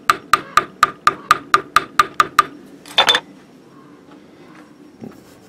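About a dozen sharp, evenly spaced hammer taps seat a set screw on a boat shaft coated with epoxy. A louder double knock follows, then a faint clunk, all close and with no talking.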